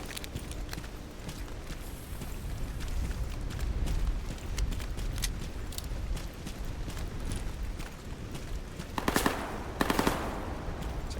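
Gunfire in the video game STALKER Gamma: dense rapid automatic shots crackling throughout, with a couple of louder, sharper bursts near the end, no talk over it.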